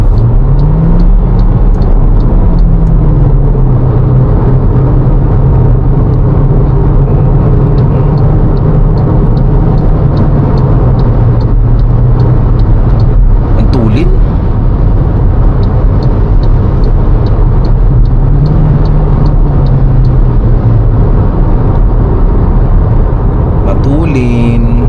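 A car is heard from inside as it drives, with a loud steady engine drone and road rumble that rise and fall gently as it slows for smooth braking. A person talks over the noise.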